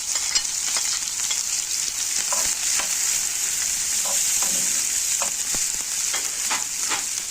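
Sliced onion frying in the oil left over from frying chicken gives a steady, dense sizzle with occasional stirring clicks, running continuously and alone with no talk.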